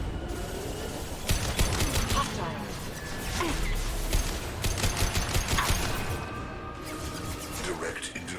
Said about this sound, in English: Let's switch to fiery rounds